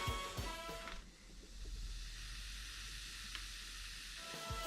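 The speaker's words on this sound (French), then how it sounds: "Toute cette mousse-là montre qu'on a bien dégazé notre vin et on l'entend." Red wine foams after degassing, a faint, steady fizzing hiss of bursting bubbles that carries on for several seconds after a brief stir.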